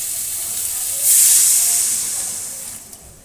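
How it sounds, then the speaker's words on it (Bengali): Water poured into a hot pan of cauliflower and katla fish curry with fried potatoes and spices, giving a sudden loud hissing burst of steam that slowly fades over a few seconds. "এবার কিন্তু জল দিয়ে দেবো"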